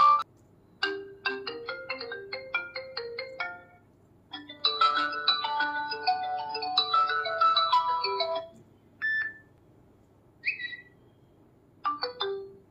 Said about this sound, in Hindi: अगर आप चाहते हो रिंगटोन बजे तो आप तीनों में से किसी भी एक पे कर सकते हो सिलेक्शन